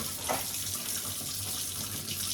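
A kitchen tap runs into a sink during a home deep-cleaning session, a steady close hiss and splash of flowing water with a brief louder gush near the start, no talk.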